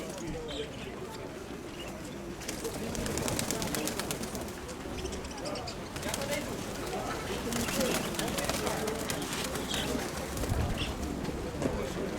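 Pigeons coo steadily at a busy outdoor market in Dnipro, with wing flaps and flying birds among a dense crowd murmur; people talk throughout.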